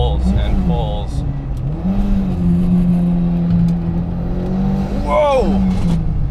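An Audi S4 with a home-built 2.0-litre stroker engine pulls hard under acceleration, its engine note climbing steadily and then rising again after a shift, heard from inside the car with a person talking over it.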